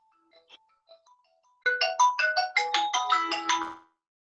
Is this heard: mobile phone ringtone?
yes